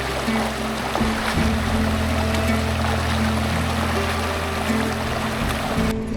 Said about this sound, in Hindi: the sound of flowing water